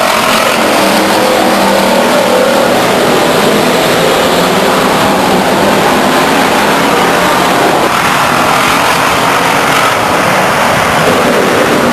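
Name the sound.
race cars racing at Stockton 99 Speedway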